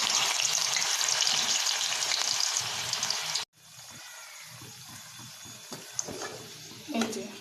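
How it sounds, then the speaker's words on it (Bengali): Potato pieces fry in hot mustard oil for a Bengali taro curry, a loud steady sizzle that cuts out suddenly midway, then returns quieter with faint scraping and a few soft clinks. "আলুগুলো দিয়ে একটু ভালো করে সুন্দর করে লাল লাল করে ভেজে দিচ্ছি।"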